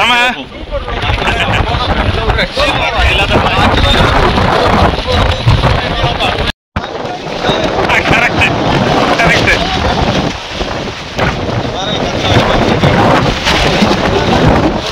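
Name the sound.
strong wind in stormy Himalayan mountain weather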